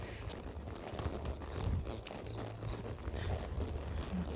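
A ridden horse steps over an obstacle during a training session, giving a steady clip-clop of hooves on the ground at close range with no voices.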